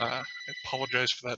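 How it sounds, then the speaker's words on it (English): Telephone ringing in the background, a steady electronic tone running beneath a man's speech, which dominates throughout. "phone going off in the background"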